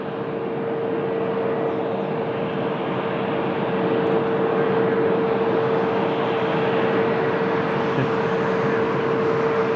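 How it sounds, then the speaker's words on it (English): Steady, loud broadband roar of a TAP Portugal Airbus A321neo at Lisbon Airport, holding level and close for the full stretch with a constant tonal whine running through it, no voices. "So the LER from Zurich, Airbus A321neo of TAP Portugal."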